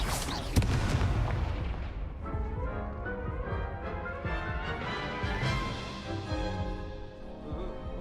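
Spell-casting blasts from the Hogwarts Legacy video game form a continuous run of booming, explosive impacts, with a sharp burst near the start and dense rumbling effects layered over game music.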